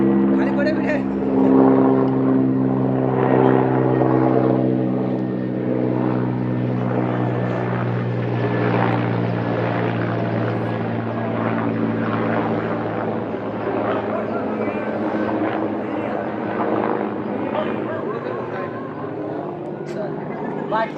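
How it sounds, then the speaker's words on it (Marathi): A helicopter's steady throbbing rotor drone fills the scene, loud and continuous with a low engine hum, while people talk nearby over it. "बघा हेलिकॉप्टर बघा"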